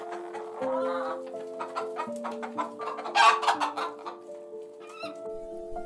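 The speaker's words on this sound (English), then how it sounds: "for hen." A hen clucks in a children's alphabet lesson, giving several short bursts of clucks over a simple, steady melodic backing. The liveliest cluster comes just past the middle.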